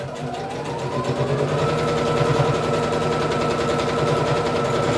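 A sewing machine stitches bias binding onto a kimono, its rapid, even needle rhythm running close and steady throughout without talk.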